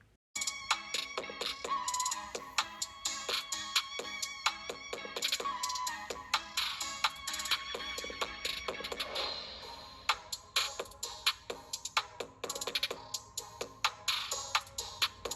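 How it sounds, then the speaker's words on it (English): Music plays back through the bottom-facing speaker of an LG K51 phone, a busy rhythmic track with sharp clicky percussion that stays fairly thin and moderately loud throughout, with no talking. "I want to test out the speakers too, so I'll let you listen to it"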